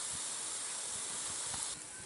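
Steady, loud steam hiss escapes from a covered pot of palm fruit kolukkattai cooking on the stove, continuous and close, easing slightly near the end.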